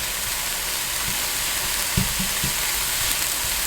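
Onion sautéing in a pan for a plant-based chorizo and egg breakfast burrito, giving a steady close sizzle with a few soft stirring knocks and scrapes.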